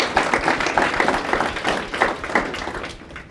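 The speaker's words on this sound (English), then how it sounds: "A huge round of applause again." An audience at a panel session gives a brief round of applause, uneven clapping that swells in bursts and tapers off near the end.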